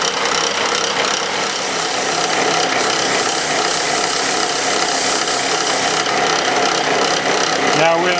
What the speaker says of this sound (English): Now we get to sand it.